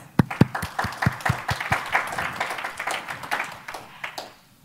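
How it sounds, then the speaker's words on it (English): Applause from a conference audience at an open source community event, starting with a few sharp separate claps that build into a brief scattered round before fading out to quiet. "Let's give them applause."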